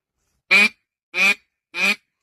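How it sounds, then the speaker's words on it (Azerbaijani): Three evenly spaced, loud nasal quacks from a duck call, each short and sharp, with silence between them. "Bu da ördək çağırandır"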